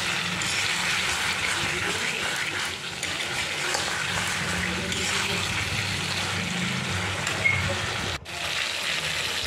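Fried shol fish is stirred in a hot pan, giving a continuous close sizzle with scraping and stirring sounds, and a voice talks faintly over it.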